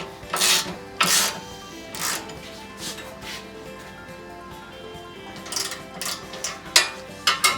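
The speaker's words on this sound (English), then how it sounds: "So I got a big ratchet on there." A big ratchet tightening the bolts of a Smittybilt Gen2 X2O winch on a Jeep Cherokee: a handful of short, sharp clicking bursts spaced irregularly, with quieter rubbing between.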